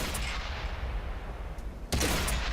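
Tank gunfire in World of Tanks, a heavy rumbling battle din with a sudden loud cannon blast near the end and a booming tail.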